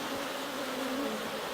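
Honey bees buzzing at a hive during requeening, a continuous close, even drone with a faint wavering tone, no talking.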